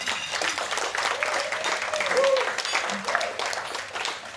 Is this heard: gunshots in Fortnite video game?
no